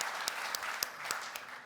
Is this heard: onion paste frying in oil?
no